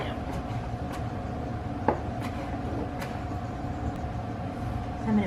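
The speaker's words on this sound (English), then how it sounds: "Chop up my dill." A knife chops fresh dill for fermented pickles, with sparse, fairly even taps and one sharper hit over a steady low background hum, and no talking.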